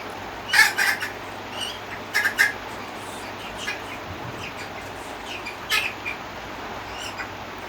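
A hen being handled during a ritual lets out short squawks in a few bursts, separated by quieter stretches of low background noise.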